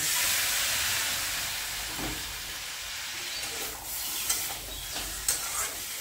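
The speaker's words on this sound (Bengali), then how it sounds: "মশলার বাকি ধোয়া জলটা দিয়ে দেব।" Fish curry with bitter gourd in a pan sizzles and hisses steadily as spice-rinsing water goes in, followed by a few stirring scrapes and knocks near the end, close and fairly loud with no talk.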